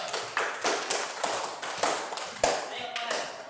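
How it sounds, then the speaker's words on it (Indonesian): Students in a classroom give a short round of applause, a near, uneven run of claps with sharp individual hits, a little scattered and not very loud. "Beri tepuk tangan sama Eos."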